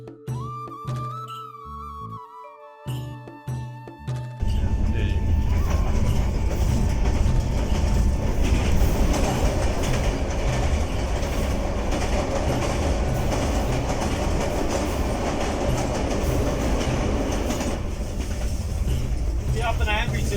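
A train runs on rails between Rawalpindi and Tarki on the Pothohar line, heard from the locomotive. A quieter stretch with tonal squeals opens the sound, then a loud, steady roar of wheels and engine rumbles on without a break.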